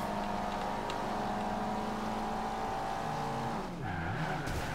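Racing cars in Forza Horizon 2 run behind a Subaru, with steady high engine drone and tyre noise that dips and swoops in pitch as the cars brake and turn near the end.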